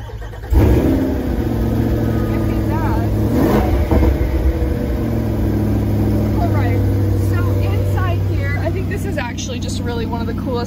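A 2022 Chevrolet Corvette Stingray C8 with a 6.2L V8 fires up with a sharp burst, then settles into a loud, steady idle with revving swells, close by as a voice talks over it.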